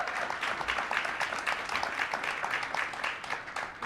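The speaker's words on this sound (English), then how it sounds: "So big round of applause." An audience at a kick-off event for an innovation week in Calgary claps in a steady patter of applause, heard at a moderate distance with a faint voice beneath.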